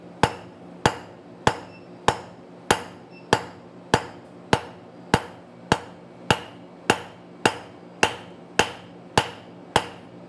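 A blacksmith's hammer strikes hot steel on an anvil in a steady, even rhythm of about seventeen sharp, ringing blows, each fading quickly, with no talk.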